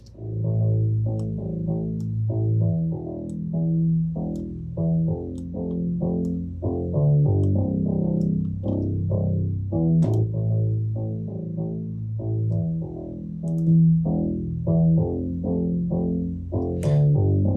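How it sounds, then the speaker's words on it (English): A warm, slightly distorted bass line, saturated by a compressor, plays a steady groove of low, gritty notes, continuous and upfront throughout. "you kind of get a little bit of the saturation sound"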